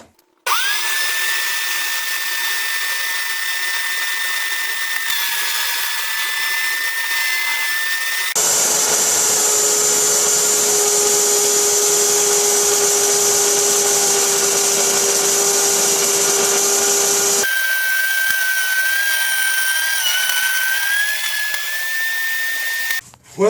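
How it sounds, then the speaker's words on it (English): A router shaping the outside of a wooden bowl on a jig, whining steadily and loudly at close range for the whole stretch, its pitch and tone shifting as the cut changes midway. "that's the first time I used the router to do this"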